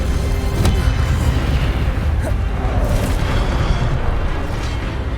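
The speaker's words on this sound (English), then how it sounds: "Incendio." A fiery Incendio spell bursts in Hogwarts Legacy, a loud rumbling blast with a sharp crack near the start, followed by a sustained roaring whoosh of flame that stays dense and close throughout.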